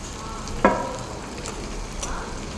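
Onions and green chillies frying in a pan in a hostel kitchen make a steady sizzle, with one sharp clink of a utensil early on.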